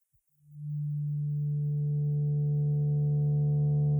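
A synth patch of a 4-bit sine and a triangle wave, both frequency-modulated by a sine at half the pitch, swells in from silence after a tiny click into a steady, sustained buzzing tone with bright overtones.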